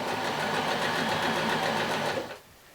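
A sewing machine stitches a seam in fashion doll tights, running steadily at a fast, even stitching pace for over two seconds, then stops abruptly.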